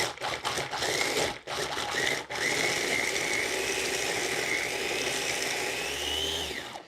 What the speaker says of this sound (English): And we pulse that a little bit till it grinds up.